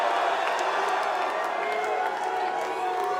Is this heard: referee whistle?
no